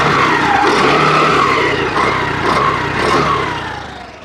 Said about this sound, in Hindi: ये है आपका आइडल में, और अभी मैं इसको थोड़ा रेप करता हूँ।